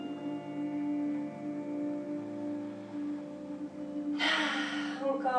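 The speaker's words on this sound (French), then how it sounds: "Inspire par le nez. Et expire par la bouche." Yoga breathing over a low droning background: a long steady stretch, then a sudden breathy exhale through the mouth near the end, close and audible.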